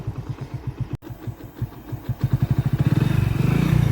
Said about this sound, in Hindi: देख के पूरे चक में मोटरसाइकिल घुमा के चलते हैं उधर भी